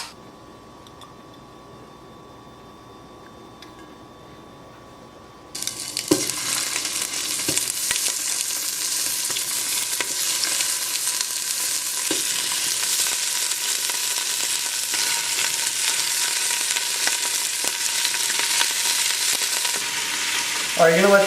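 Beef pieces searing in a hot pan for a roasted tomato and beef stew: quiet room tone, then a sudden loud, steady sizzle bursts in after about five seconds and continues close up, with a few faint ticks and clicks.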